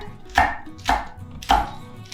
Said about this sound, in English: cut the white ends kind of small, because they're a little stronger tasting